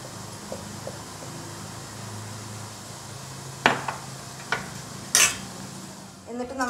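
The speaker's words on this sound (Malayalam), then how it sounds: "എന്നിട്ട് നന്നായിട്ടൊന്ന് മിക്സ് ചെയ്ത് കൊടുക്കാം." Fried plantain being stirred with ground black pepper in a pan, a low steady sizzle with a few sharp utensil clinks and scrapes against the metal, close by and without talk.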